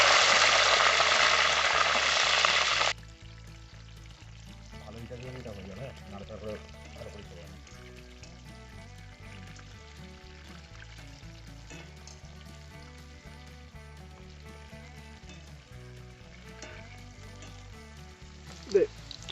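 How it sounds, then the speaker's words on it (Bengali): Cauliflower florets are dropped into hot oil, setting off a loud burst of sizzling for a few seconds that then settles into a quieter, steady crackle with occasional stirring clinks. "ফুলকপিগুলো তেলের মধ্যে ছেড়ে দেবো।"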